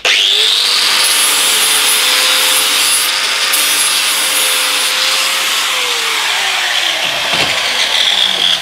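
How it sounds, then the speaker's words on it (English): A wooden component is sanded down by hand in a workshop, a steady, loud, raspy rubbing that carries on without a break for several seconds. "sand it down a bit."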